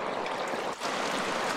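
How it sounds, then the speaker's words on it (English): Water runs steadily through a roof gutter, flowing past leaves and a low-profile gutter filter, a close, continuous trickling wash with one brief dip midway and no talk. "the water goes past the leaves, and it just flows, even if it's blocked here"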